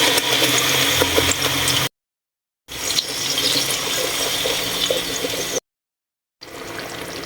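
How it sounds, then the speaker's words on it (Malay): Water poured into a pan of Thai-style chicken cooking with lemongrass and finely ground chili paste: a steady, close rushing splash broken by two abrupt silent gaps. "Masuk sedikit air."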